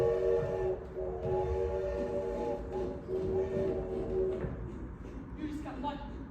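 A staged train sound effect plays during a community theater one-act performance, a continuous rumbling, rolling clatter with tonal hum that shifts near the end, heard under actors' voices.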